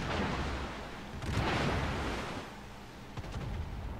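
Naval guns from several warships in World of Warships boom at a distance, dull rumbling salvos blending into a steady wash of sea and battle noise, moderately loud with a few sharper reports.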